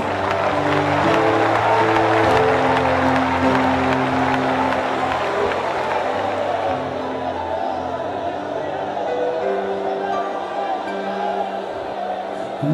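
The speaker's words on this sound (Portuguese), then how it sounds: "Pode aplaudir a Jesus, faça." Church congregation at an Assemblies of God service in Rio de Janeiro applauds, a loud sustained wash of clapping and crowd noise under a preacher's voice and music, gradually fading.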